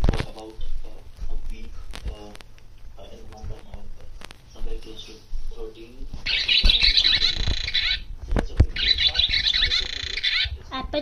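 Barn swallow calls, a mix of twittering chirps and squawks, come in bursts throughout, with the densest chattering at the end; a person talks intermittently alongside them.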